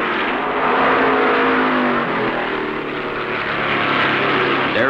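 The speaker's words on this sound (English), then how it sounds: "Fred Lorenzen puts his foot down" Stock cars roar past at the 1965 Darlington Southern 500 race, one of them a Ford. The engines make a loud, steady, close-up drone with no talk over it.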